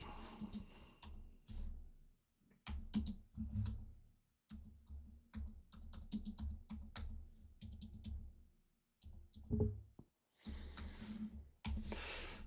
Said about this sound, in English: One sec, I'm just typing out this poll.